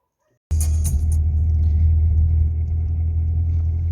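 A car starts off with a sudden onset into a steady, loud low engine rumble, driving along toward the forest with faint rattles above the drone and no talk.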